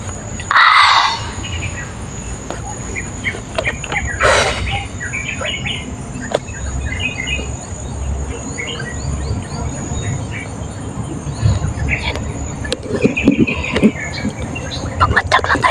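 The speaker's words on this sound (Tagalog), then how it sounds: "Yan o, may mga ibon doon." Birds chirp outdoors in short, scattered calls, most prominent near the start, over a steady insect buzz and a low background rumble.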